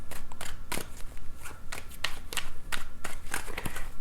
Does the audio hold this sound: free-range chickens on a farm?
no